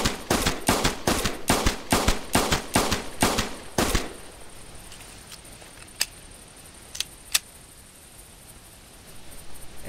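Rapid string of about ten sharp .22 Grasshopper pistol shots in the Hunter video game, fired in quick even succession over four seconds, then a few isolated clicks and quieter reports against a low ambient hum.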